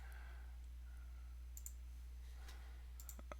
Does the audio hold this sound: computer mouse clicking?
yes